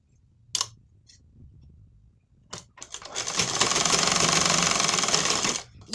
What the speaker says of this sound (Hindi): अब हम इसमें डबल सिलाई कर लेंगे।